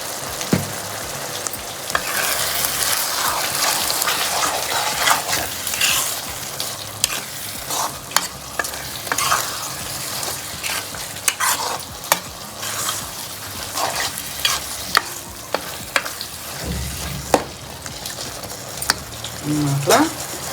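Dry eel fish curry masala cooking in a pan, a loud close sizzle with frequent stirring scrapes throughout, with brief bits of talk in the background.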